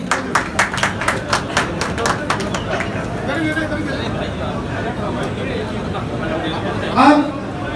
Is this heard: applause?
yes